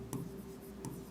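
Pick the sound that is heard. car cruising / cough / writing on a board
writing on a board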